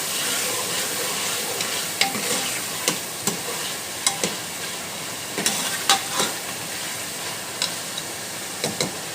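Half a kilo of chicken fries in masala in a pan, a dense steady sizzle broken by scattered sharp clicks and scrapes as it is turned, close and fairly loud, with no voices.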